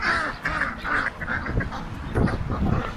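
Ducks on a homestead quack repeatedly at close range, a busy overlapping chorus of nasal calls with some rustling underneath.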